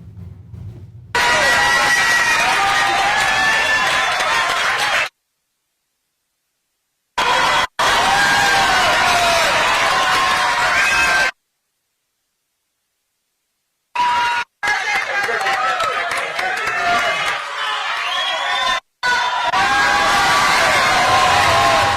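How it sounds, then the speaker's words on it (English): Crowd inside a church at a Trump event cheering and shouting in loud bursts, broken by several abrupt silent gaps, with mixed voices and whoops. "all that cheering, that's white people"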